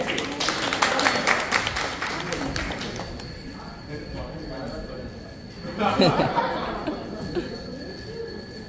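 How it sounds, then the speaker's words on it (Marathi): Guests at a child's first birthday party give a burst of clapping that fades out, followed by a later brief swell of applause and laughter. An anchor's voice and chatter run underneath. "जोरदार टाळ्या झाला पाहिजे संकेत बाईसाठी"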